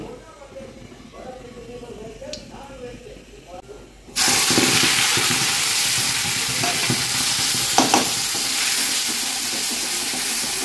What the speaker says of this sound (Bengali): ডাল হয়ে এসেছে, ফোড়ন দিয়ে দেব, পেঁয়াজ ফোড়ন দেব,